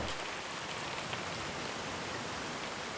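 Steady rain falls during a long road bike ride in Wales, a constant close hiss of drops spreading evenly with no talk.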